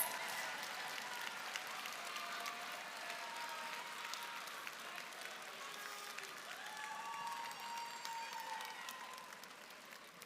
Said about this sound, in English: One more round of applause for our amazing orchestra compiled of different FRC students and teams